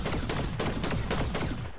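Rapid bursts of gunfire crack in quick succession in the video game Fortnite, sounding like a steady volley from nearby weapons, with no voices.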